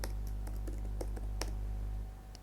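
Computer keyboard being typed on while writing CSS code, giving quick, light key clicks in irregular bursts over a steady low electrical hum, close and fairly quiet.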